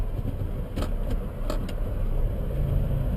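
A Saab car engine hums steadily amid city traffic in the DC metro area, with a few brief sharp noises over the continuous road rumble.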